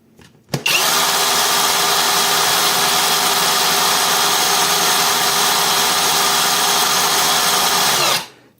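An IRON WARRIOR LS-006 cordless chainsaw with a 12-inch bar switches on and runs at a steady high-pitched electric whine for about eight seconds, loud and close, then winds down.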